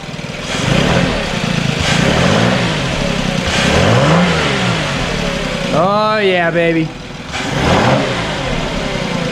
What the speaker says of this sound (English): we're gonna give it some gas